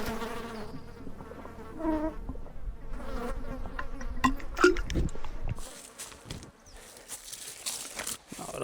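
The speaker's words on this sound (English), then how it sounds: "I'm getting swarmed by mosquitoes like this." A swarm of mosquitoes and flies buzzes steadily around someone camping outdoors, a dense whining hum close to the ears that persists throughout with scattered rustling and handling noises.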